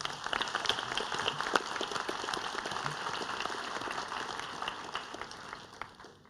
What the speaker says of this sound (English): let's give our students and awardees a round of applause as well